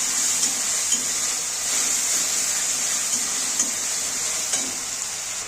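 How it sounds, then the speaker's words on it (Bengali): Spiced masala with salt and turmeric sautéing in a pan for Bengali-style potato chana masala, a constant hissing sizzle broken by light scraping stirs, no talking. "এবার মশলাটা ভালো করে কষিয়ে নেব।"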